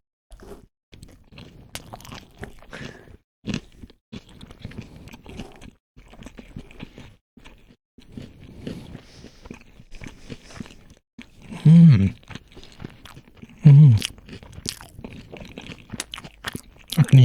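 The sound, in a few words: crunchy cucumber sushi being chewed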